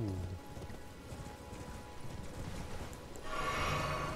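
Horse hooves clip-clopping at a gallop across open ground in Elden Ring, a steady drumming rhythm that swells louder and brighter toward the end, with no talk over it.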